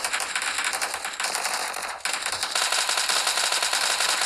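Rapid automatic gunfire in the mobile battle royale game PUBG Mobile, a dense continuous rattle of shots that runs loud and steady throughout with a brief dip midway.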